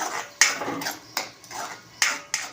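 Turmeric, red chilli powder and homemade garam masala being sautéed in a pan: a metal spoon scrapes and clinks against the pan in sharp, irregular taps, close and moderately loud, with no talking.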